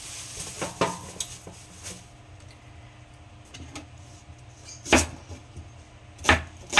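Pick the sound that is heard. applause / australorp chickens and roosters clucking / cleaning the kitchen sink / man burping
cleaning the kitchen sink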